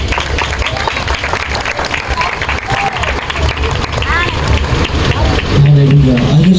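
Congregation applauding at a Palm Sunday church service, a thick continuous patter of many hands with a few voices mixed in, ending as a low tone rises near the close.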